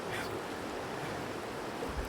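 A mountain river at Palin in Arunachal flows in a steady, broadband wash of rushing water, loud and continuous throughout with no break or talk.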